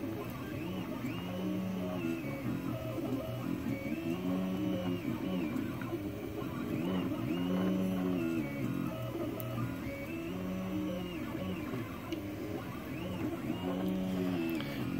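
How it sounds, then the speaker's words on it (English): An Anet A8 3D printer lays down a brim, its stepper motors humming and warbling in repeating tonal sweeps over a constant fan whir, heard close and steady with no speech. "And this should be printing the brim, because I use a brim for bed adhesion."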